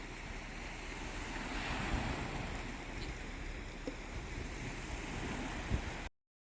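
Waves wash continuously onto a Cuban resort beach, a broad, steady surf roar mixed with wind buffeting the microphone, cutting off abruptly at the end.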